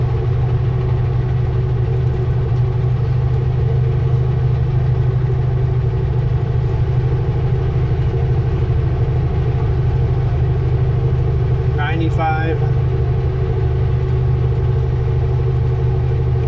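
A truck engine at full throttle on a highway at around 85 to 90 gives a loud, constant droning rumble with a heavy low hum, steady throughout, with a short higher whine partway through and no talk.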